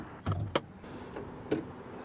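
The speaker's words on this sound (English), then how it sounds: "We're gonna pop the hood." Hood of a 2025 Hyundai IONIQ 5 being popped open, with a few sharp close clunks and latch clicks over a quiet background.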